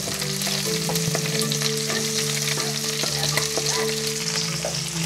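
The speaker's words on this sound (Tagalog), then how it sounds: "Ilalagyan lang natin itong bawang sibuyas natin. So bali, pagsasabayin ko na yung bawang sibuyas natin." Garlic and onion sizzle and fry in a hot pan with steady, continuous crackle and occasional stirring scrapes, loud and close with no talking, along with a low steady hum underneath.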